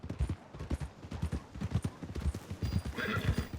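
A horse in Red Dead Redemption 2 clip-clops along at a steady walking rhythm, its hooves close and distinct, and gives a short neigh near the end over quiet outdoor ambience.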